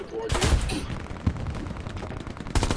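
Gunfire rattles through a WW2 battlefield in the game Hell Let Loose, with dense bursts of shots, a heavy blast near the start, and continuous loud combat noise while players talk over it.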